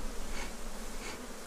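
Apis honey bees hum in a dense, continuous drone at the hive, close and steady for the whole short stretch with no voices.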